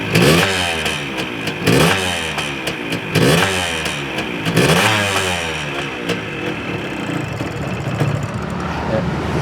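A Suzuki TS 125 motorcycle engine runs up close, revving in repeated surges and then settling into a steady, rough idle.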